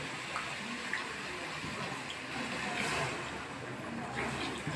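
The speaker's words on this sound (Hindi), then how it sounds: "थोड़ा पानी डालें" Water is poured into a cooking pot while a partridge masala is prepared, a soft steady splashing and trickle that runs faintly throughout.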